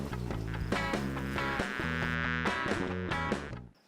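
Honeybees swarm around beehives on a farm, a dense, close, continuous buzzing with tones wavering as individual bees pass near, fading out at the end with no talk.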